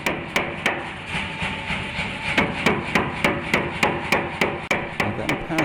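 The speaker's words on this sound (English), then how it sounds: "Now it's time to forge the feet of the insect. So I do this by forging a tenon first to an exact size." A blacksmith's hammer forges a steel tenon for a beetle sculpture's feet, striking in a fast, even series of about twenty sharp, ringing blows close by.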